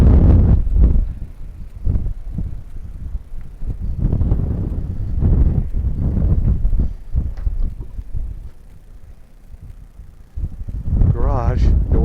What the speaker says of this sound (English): I wish it just wasn't as windy.